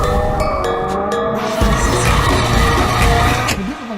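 A car drifts with a loud, sustained tire squeal over the engine roar, the screech bending in pitch before easing off near the end.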